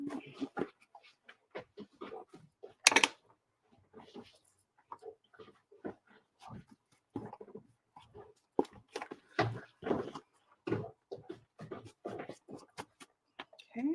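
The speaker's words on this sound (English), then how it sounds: "You might hear some barking in a minute." A dog barking in short, scattered yelps and woofs from indoors over several seconds, with children playing nearby and a voice speaking briefly.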